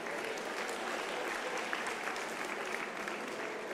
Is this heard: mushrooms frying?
no